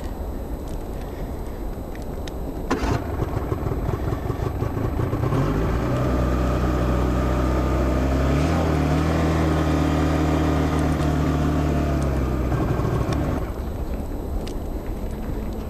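A motorcycle engine starts around the third second and keeps running at a steady mid-pitched idle, rising slightly in revs, outdoors in the Patagonian countryside before a campfire; no talk over it.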